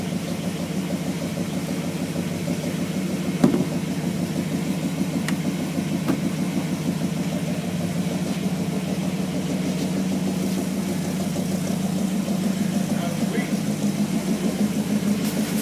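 A 1932 roadster's engine idles steadily and close by with a mellow, even rumble throughout, one brief knock partway in, and people talking over it.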